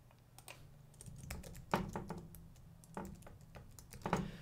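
Fingers type on a computer keyboard, a soft, close patter of irregular key taps with a few louder strikes, heard alone at low volume.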